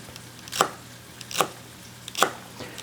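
Three crisp, evenly spaced knife chops through celery on a cutting board, each a sharp close thud with quiet pauses between.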